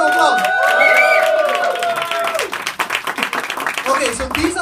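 A room of people applauds and cheers at a live gathering. Loud, dense clapping with raised voices runs for about two seconds, then thins into scattered claps as someone starts talking over them.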